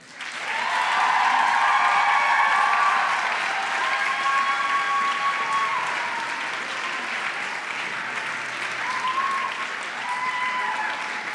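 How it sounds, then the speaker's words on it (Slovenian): Sustained applause from an audience at a choir festival closing and awards ceremony in Zagorje ob Savi, dense and steady throughout, loudest in the first seconds and then settling at a slightly lower level. "še enkrat aplavz za zborovodje iz leta 1968"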